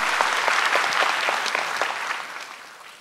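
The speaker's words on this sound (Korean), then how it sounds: "박수로 우리 김다솜 양에게 감사를 전하겠습니다" A room full of people claps steadily, loud at first and then gradually tapering off.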